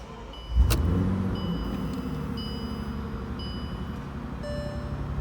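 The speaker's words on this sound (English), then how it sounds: "So while we're here, let's start it up." A 2014 Bentley GTC convertible's engine cranks and fires with a sharp burst, then settles into a smooth, steady idle while faint chimes from the cabin ring intermittently.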